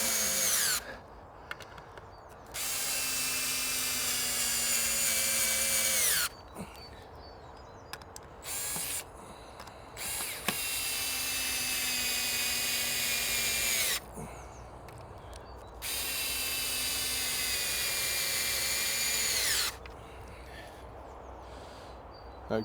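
A power drill pre-drills pallet wood boards in several long whirring bursts, spinning up and winding down between pauses, with faint birdsong in the background.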